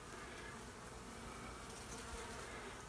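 Honey bees in a hive hidden inside a brick wall buzz in a dense, continuous drone, close and steady throughout.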